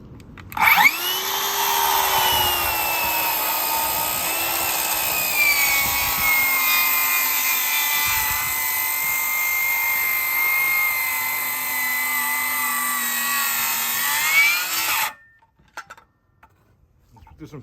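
A Metabo HPT MultiVolt rear handle saw cuts through wood with a loud, sustained whining drone for about fourteen seconds, its pitch sagging slightly under load, then cuts off abruptly leaving near quiet.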